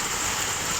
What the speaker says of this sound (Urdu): شدید ترین بارش کے مناظر